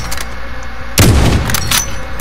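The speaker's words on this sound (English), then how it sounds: "I shot straight through the wall" A sniper rifle shot fired through a wall in a video game, a single loud booming crack near the middle with a short rumbling tail, set against steady game ambience.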